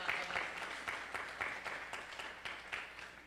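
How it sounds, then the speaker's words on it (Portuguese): Applause at a semester-opening event for coordinator Ronaldo: quiet, somewhat distant clapping from a modest crowd, with individual sharp claps standing out in an uneven rhythm. "Queria pedir uma salva de palmas para o Ronaldo"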